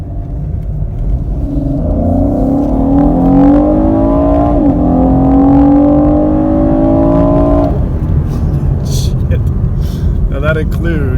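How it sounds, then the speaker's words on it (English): A 2017 Chevrolet Camaro RS V6 pulls into traffic, its engine note climbing loudly through the revs for several seconds, then dropping off to a quieter rumble. "we're going to be able to test the pickup and acceleration for this car."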